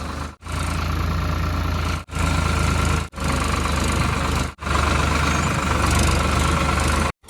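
A tractor engine labours hard up a high riverbank, a loud continuous low rumble broken by several brief drops in power before it roars on again.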